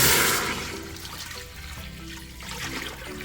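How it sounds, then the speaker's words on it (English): Broth poured into an Instant Pot, a short liquid splash and gurgle that is loudest at the start and settles into a softer trickle. "We're gonna put our broth right in the Instant Pot."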